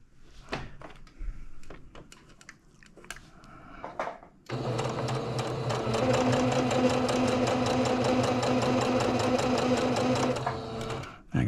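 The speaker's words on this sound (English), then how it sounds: "Let's not sew over the needle." A sewing machine stitches quilt binding in a fast, steady mechanical whir that runs for several seconds, preceded by a few quiet handling clicks and rustles.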